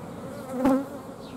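A honey bee colony being formed into a new family hums with a steady close buzz, and a brief louder tonal swell rises from the hive midway before settling back into the drone.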